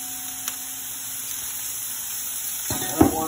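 Vegetables fry in a little olive oil over high heat, giving a steady, quiet sizzle with a brief louder crackle and stir near the end.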